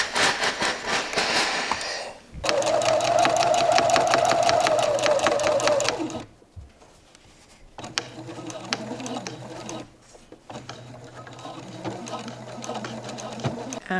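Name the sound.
sewing machine sewing shirt seam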